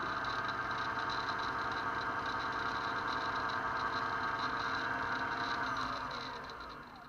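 A tiny electric motor on a small lathe running steadily, fitted with a homemade spur center, giving a constant whirring hum that winds down slightly at the end, with no voices.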